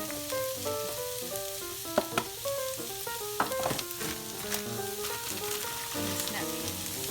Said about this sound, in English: We're gonna saute the onions for about 5 minutes.